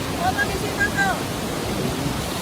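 A waterfall in a Sukabumi valley roars nearby as a broad, steady rushing wash of water noise, with faint bird chirps briefly over it and no talk.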